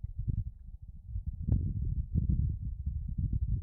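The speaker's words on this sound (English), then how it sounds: "This is the sound of wind on Mars." Low, muffled rumbling wind on Mars buffeting a microphone, a steady soft roar with gentle pulsing gusts and no voices.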